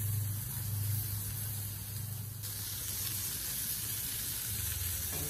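Two burger patties coated in Montreal steak seasoning fry on a hot surface with a steady sizzle and crackle and a low hum underneath. The sound stays fairly even, close and continuous.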